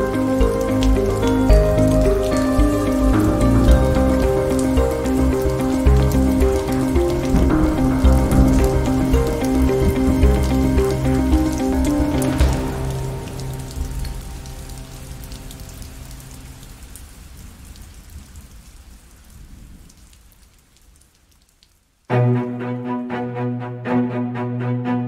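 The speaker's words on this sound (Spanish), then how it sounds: "La lluvia había empezado a caer de nuevo." Steady rain falling as a sound effect in a Spanish-language audio drama, a dense continuous wash mixed with music that fades out, then resumes briefly at the end.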